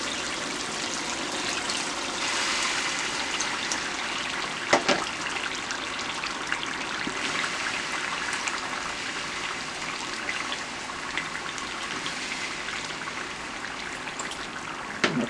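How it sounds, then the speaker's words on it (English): Liquid poured into a pan of eggplant that has been frying for about 30 minutes for spicy Liberian fried eggplant, giving a steady, fairly loud watery rush and sizzle that carries on throughout with no talking. "now I'm going to add my liquid in there"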